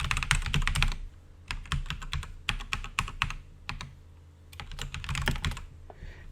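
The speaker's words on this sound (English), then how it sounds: "we're going to go ahead and just type in something." Typing on a computer keyboard to fill in a sign-up form, rapid bursts of close clattering key presses broken by short pauses.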